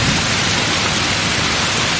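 Heavy rain pours steadily in a dense, continuous hiss that fills the whole moment, with no pauses or voices.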